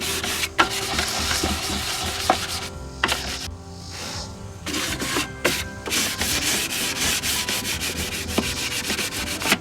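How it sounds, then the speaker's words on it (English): Hand sanding with fine 320 grit sandpaper outdoors, a close, rhythmic rasping of strokes back and forth with a couple of brief pauses. "I'm using 320 sandpaper"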